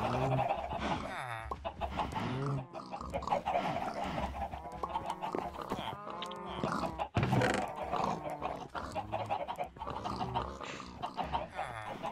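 Minecraft chickens cluck repeatedly in the Sky Factory 4 modpack, their short calls overlapping with other animal noises in a dense, busy in-game soundscape that runs for the whole stretch.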